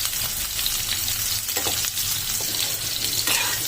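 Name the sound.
jackfruit pieces frying in oil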